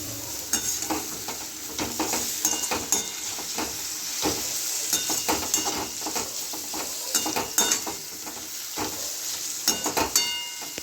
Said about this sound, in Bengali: একটু ভালো করে নেড়ে নেব চিকেনগুলো দিয়ে দিচ্ছি